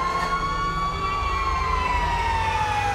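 A wailing emergency-vehicle siren from the video game GTA V sweeps slowly in pitch, loud and continuous over a low engine rumble throughout.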